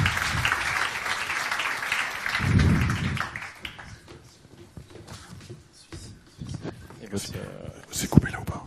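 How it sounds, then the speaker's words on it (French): An audience at an entrepreneurship meetup applauds as two speakers are welcomed, a burst of clapping that swells and then thins out, after which people talk quietly nearby. "Faut les applaudir."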